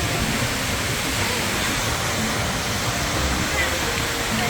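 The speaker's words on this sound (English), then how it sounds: "we're looking at the waterfall" Seljalandsfoss waterfall in Iceland roars steadily on a wet, windy day, a dense and constant rush of falling water heard up close.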